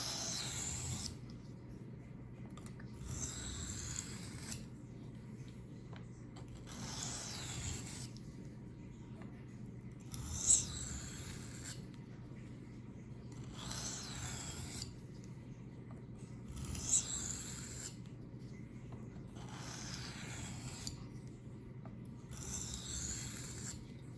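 A knife drawn across the coarse side of a sharpening stone in alternating strokes, giving about a dozen even scraping passes at a steady rhythm, close and fairly quiet with no talk.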